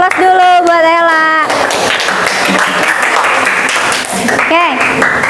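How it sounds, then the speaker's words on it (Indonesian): A classroom of students claps for a classmate, with a burst of steady applause lasting a few seconds between voices talking before and after it. "Aplaus dulu buat Ella"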